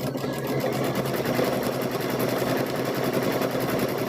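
Steady, close whirring of a sewing machine stitching quilt squares runs without pause, a continuous mechanical drone.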